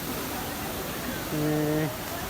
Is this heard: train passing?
no